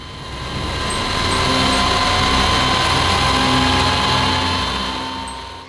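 Four-engine-pair roar of a B-52 bomber's jet engines running on the tarmac, a loud steady broadband whine with high tonal hum holding for several seconds, no talking.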